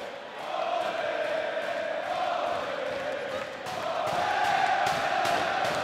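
A wrestling arena crowd roars during a Ring of Honor match featuring Kevin Steen, a sustained swell of cheering and yelling that dips briefly and surges again, heard from a distance.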